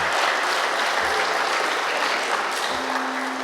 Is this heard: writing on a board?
no